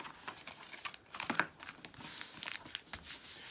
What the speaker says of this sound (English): Fold that over.